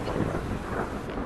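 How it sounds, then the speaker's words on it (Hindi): Rain falls in the WCC2 cricket video game, a broad, dense wash of noise with low rumbling, steady and unbroken over a short moment. "ये बारिश खेल को बिगाड़ सकती है"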